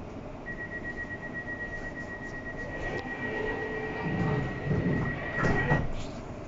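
Steady rumble of a London Overground train on the Chingford branch toward Liverpool Street, near Hackney Downs, with a thin sustained whine and clattering bursts swelling toward the end; no talking.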